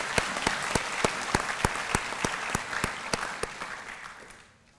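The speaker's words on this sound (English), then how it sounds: "so give him a round of applause, please" A graduation-ceremony audience at a police academy bursts into applause, dense clapping with sharp, regular louder claps punctuating it, steady for several seconds and then fading out at the end.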